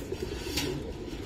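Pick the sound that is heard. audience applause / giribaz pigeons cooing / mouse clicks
giribaz pigeons cooing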